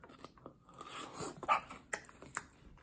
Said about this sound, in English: Let's give us a little bite here.